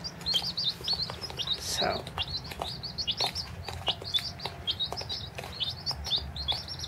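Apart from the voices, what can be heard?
chicks chirping, including Australorp and Rhode Island Red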